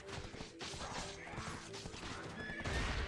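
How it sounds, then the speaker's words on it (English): Horse in the online game Black Desert whinnying loudly over busy clip-clop hoofbeats and scattered clashing combat noise, dense and continuous throughout. "Let me just get off this horse because the horse is having too much fun."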